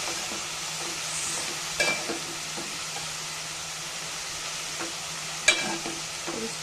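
Korla leafy greens stirred with onions in a pan make soft scraping and a gentle steady sizzle, with a couple of brief clinks from the spoon, close and fairly quiet, no voices.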